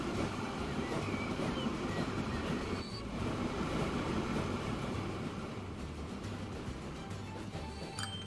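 A train rolls along in the Transport Fever 2 video game, a steady rumbling run with faint rhythmic wheel clatter, continuous and even throughout.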